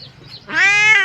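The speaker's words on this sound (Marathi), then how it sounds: "ही आमची मांजर आहे पाळलेली." A pet cat gives a single short, close meow that rises and holds briefly.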